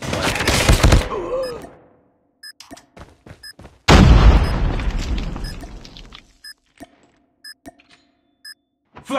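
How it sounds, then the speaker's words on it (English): A flashbang grenade detonates in Call of Duty Mobile with a loud broadband burst that trails off over a couple of seconds. An earlier blast and scattered short clicks and taps of game effects come before and after it. "Flashbang!"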